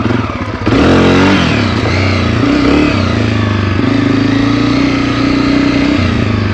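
A Honda CRF250F trail bike engine runs loud and close, revving up from a rough start and then holding a steady, throaty drone with slight pitch shifts as it rides.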